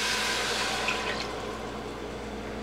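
Organic beef broth pouring into a pan of onions, mushrooms and garlic, a steady close liquid rush that gently tapers off over a couple of seconds, with no talking.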